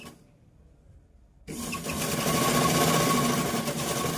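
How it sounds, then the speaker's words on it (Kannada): A sewing machine stitches a blouse hem, starting after a quiet second and then running steadily and loudly with a dense, continuous whirring hum. "ಇನ್ನೊಂದು ಹೊಲಿಗೆನ ಹಾಕ್ಕೊಂಡು ಎಮ್ಮಿಂಗ್ ಮಾಡಿ"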